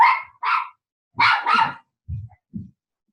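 Dogs bark in a short outdoor burst: several sharp, loud barks in two quick pairs, then a couple of lower, softer woofs, with no talking.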